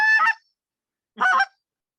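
Two short, sharp honks from a short reed goose call blown as a rolling double call, each burst roughly a quarter second long and separated by about a second of silence, close and clear.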